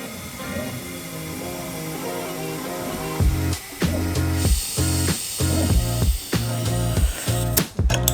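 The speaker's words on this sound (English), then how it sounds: "putting the airline on and simply jacking it up" A pneumatic air jack raises a 2023 Honda Civic, giving off bursts of hissing air that start and stop repeatedly in the second half over a steady background hum.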